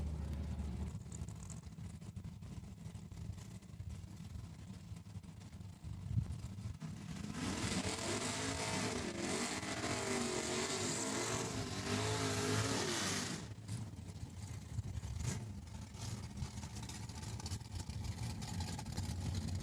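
Drag racing cars, a 1976 Chevrolet Nova and a 1970 Plymouth Satellite, rev loudly at a racetrack during a test day, with a swelling burst of engine roar mid-clip over steady background engine noise.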